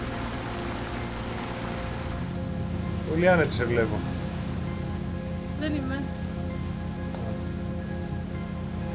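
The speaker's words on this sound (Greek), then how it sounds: "Τροπική καταιγίδα. Δεν έχει σταματήσει εδώ και ώρες." Heavy tropical storm rain falling as a steady dense hiss that fills the whole scene, while people speak briefly over it.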